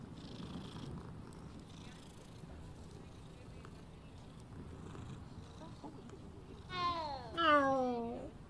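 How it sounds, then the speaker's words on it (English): A cat in the video game Hogwarts Legacy purrs softly and continuously in the background, then lets out two rising-and-falling meows near the end, while a person speaks quietly over it. "Oh, is that a kitty? Come here, kitty."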